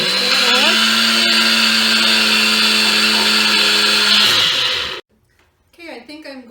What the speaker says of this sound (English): you can make your own caster or baker's fine sugar by putting it into your blender, or in this case, our bullet